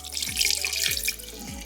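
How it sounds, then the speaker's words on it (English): Water runs steadily from a tap or jug into a pressure cooker pot, a continuous bright splashing stream with no talk over it. "And then we're gonna add in 1/4 cup of water."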